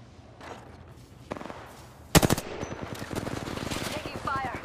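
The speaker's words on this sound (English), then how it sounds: "Whoa, listen up, I'm getting shot at." Video game gunfire breaks out after quiet ambient sounds, with a sharp close shot followed by rapid bursts of automatic fire, some nearer and some more distant; a voice speaks faintly in the background.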